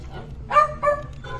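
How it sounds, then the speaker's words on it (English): A small dog barks in a few short bursts, near and moderately loud, with a quiet pause between yaps, heard indoors during the unboxing of a Bernina 990 sewing machine. "he's a persistent little man and he will bark until he gets what he wants"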